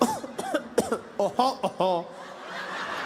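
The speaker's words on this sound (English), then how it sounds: "That was just a tickle and a cough." A few short bursts of coughing mixed with throaty, chuckling sounds, close to the microphone, fading into quiet room noise.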